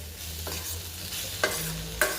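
Chopped ivy gourd fries with spices and onion in a pan, a constant soft sizzle punctuated by two quick spatula scrapes as it is turned.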